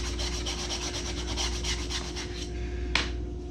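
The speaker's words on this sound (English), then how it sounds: "It's literally deburring." Hand deburring of a metal marble holder jig, a steady close rubbing and rasping stroke repeated for a few seconds over a low hum, ending in a single sharp click.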